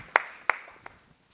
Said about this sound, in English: I think that deserves a round of applause, right?